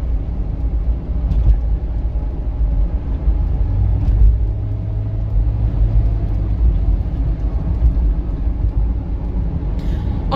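A used car accelerating steadily on a test drive, with a loud continuous low engine and road rumble that holds throughout, without talk.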